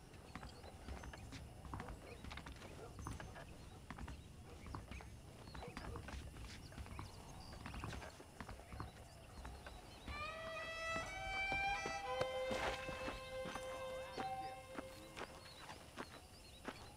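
Horses walking in the Red Dead Redemption video game, a steady clip-clop of hooves under ambient game sound, with brief tonal music cues partway through and some speech-like game chatter.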